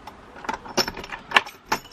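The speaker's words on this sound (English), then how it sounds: "let's make sure we've got our keys this time" A bunch of keys jangles in a few short, bright metallic bursts, irregularly spaced and close up, with faint low rumble and no talking.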